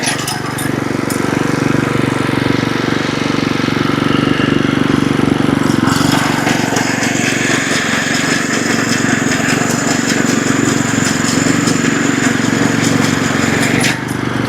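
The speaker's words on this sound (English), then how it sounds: "why is some crazy old guy out mowing his putting green at 7:30 at night" A lawn mower runs steadily across a home putting green in the evening, its droning engine loud and close for the whole stretch, with a brief change in pitch partway through.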